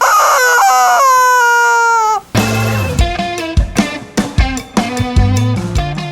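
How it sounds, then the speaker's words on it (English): A rooster crows in long drawn-out calls, then a run of sharp, loud clucks and squawks from a chicken follows close by, with no talk over it. "Get the chicken. Where's the chicken?"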